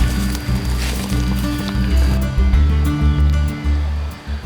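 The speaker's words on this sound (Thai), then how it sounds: "น้ำตกห้วยใหญ่ในเขตอุทยานแห่งชาติทับลาน" Huai Yai waterfall in Thap Lan National Park gives off a steady, broad rush of falling water that fills the whole stretch, with a deeper rumbling layer running underneath.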